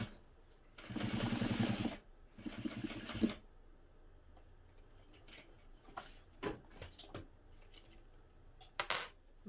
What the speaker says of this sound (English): sew the base of the open ends together